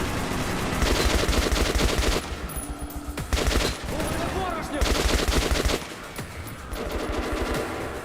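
Rapid bursts of automatic machine gun fire rattle loudly in sustained volleys, broken by short pauses, with dense layered shooting throughout, in the video game Metro 2033 Redux.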